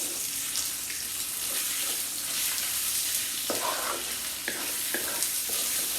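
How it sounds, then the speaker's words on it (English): Chicken pieces stir-fry in hot oil in a skillet, a dense steady sizzle close by, with scraping stirs and clatters of a utensil moving the meat around. "We're going to start stir frying this chicken."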